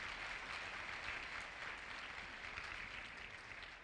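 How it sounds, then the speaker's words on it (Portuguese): A church congregation applauds a family, a dense, steady wash of clapping that holds evenly for several seconds, heard from within the room. "Você pode dar uma salva de palmas para essa família?"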